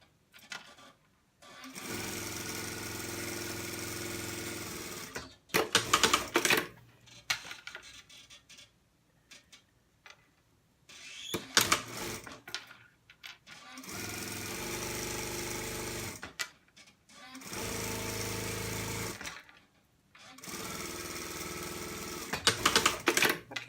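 A sewing machine stitches a tiny turned-over hem on an A-line dress, running in several loud, steady bursts of whirring needle chatter separated by short quiet pauses.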